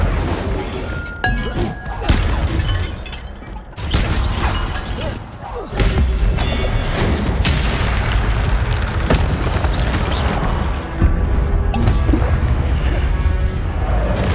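Fiery Incendio spell blasts in Hogwarts Legacy, heavy booming and crashing impacts over a dense, loud game soundscape that runs throughout, with brief lulls between bursts.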